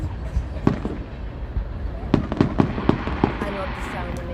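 Fireworks thump out of launch tubes and burst in a run of sharp cracks and pops, some close together, over a background of crowd chatter and voices.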